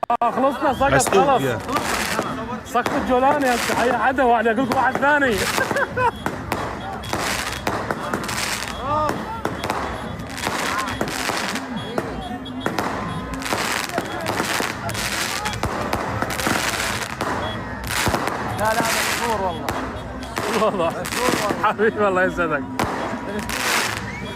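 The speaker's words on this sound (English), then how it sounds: "They're setting off fireworks, illegally blocking a road, all to celebrate at 2 a.m." Fireworks and firecrackers crackle and pop continuously through a 2 a.m. street celebration on a blocked road, dense rapid bangs layered over crowd chatter and voices.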